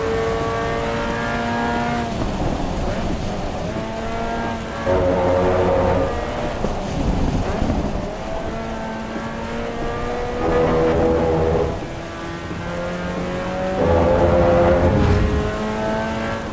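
Race car engines in the Assetto Corsa EVO racing game, likely Caterham or MX-5 cars, whine continuously with rising and falling revs and several distinct engine-note swells, loud and alone with no talking.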